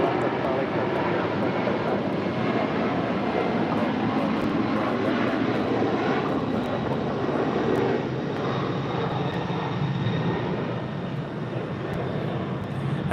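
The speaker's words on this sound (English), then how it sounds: "286 departing to San Francisco on a 747-400 converted freighter." An Asiana Cargo Boeing 747-400 converted freighter departs, its engines producing a steady, loud broadband roar that holds for the whole stretch with only slight swells, while talk carries on over it.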